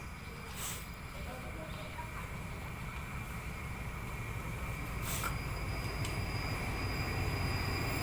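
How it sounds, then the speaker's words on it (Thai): Ordinary passenger train no. 255, hauled by an Alstom locomotive, rolls into Ratchaburi station with a steady rumble of wheels on rail and brief squeals, moderately distant and continuous. "ตอนนี้ขบวนรถธรรมดาขบวนที่ 255 จากสถานีธนบุรีไปทางหลังสวนกำลังจะเข้าจอดสถานีราชบุรีนะครับ"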